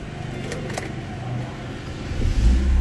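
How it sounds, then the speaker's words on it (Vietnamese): A 2009 Chevrolet Lacetti car is started with the key: a faint jingle and clicks, then the engine catches and rises to a loud, low idle near the end. "Lắc nhẹ chìa khóa nó nổ máy rồi."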